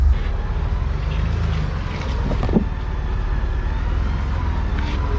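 The engine of a Ford Bronco with the Sasquatch package gives a low, steady rumble while crawling off-road as the throttle is eased, with wind buffeting the microphone throughout.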